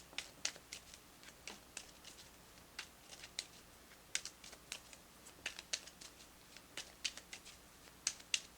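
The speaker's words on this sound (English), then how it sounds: "I'm going to shuffle these a little bit more" Soft, quiet riffling and tapping of a tarot card deck being shuffled by hand, a steady run of light irregular clicks and flutters close by, with no talking.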